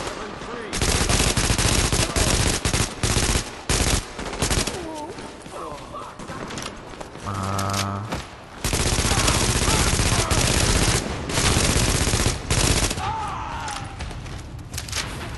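The Division's gunfire crackles in repeated bursts and sustained volleys, loud and close, with brief pauses, electronic alert tones and a voice talking during the firefight.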